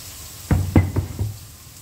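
Banana blossom stir-fried in a wok, heard as a soft sizzle under three or four close knocks and scrapes of the spatula against the pan, with no talk.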